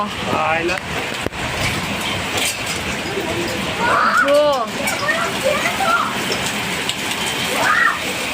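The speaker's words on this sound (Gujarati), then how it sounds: "દેખો કરા પડે છે અહીંયા" Hail and heavy rain clatter and hiss steadily throughout in Pune, with voices talking and exclaiming over the downpour.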